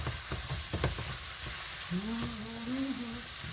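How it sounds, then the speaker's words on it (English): Small peppers fry in a pan for a stovetop ratatouille, giving a steady close sizzle and crackle with some stirring clatter, and a low droning tone rises partway through. "Cook your little peppers, cook."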